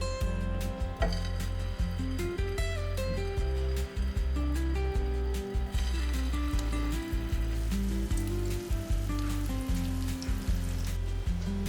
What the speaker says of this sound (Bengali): এবার বড়াগুলো ভাজবো।